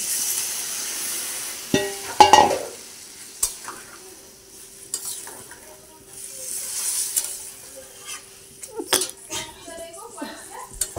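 Chicken and potatoes in a cooking pot hiss and sizzle with bursts of sputtering and scraping as water is poured in. The sizzle rises and fades in waves, and a person talks over it.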